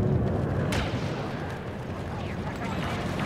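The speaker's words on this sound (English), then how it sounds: "they threw like three nades right there?" Several grenades explode in Star Wars Battlefront 2, a dense rumbling wash of blasts and battlefield noise that runs continuously, with people talking over it.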